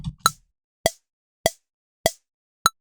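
Five sharp, evenly spaced percussive drum hits ring out alone at 100 BPM, each a short bright strike with a quick decay.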